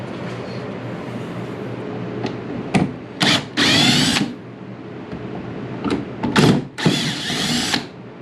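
A power drill backing screws out of a wooden concealment table, in two clusters of short whirring bursts, close and loud, with quiet pauses between runs.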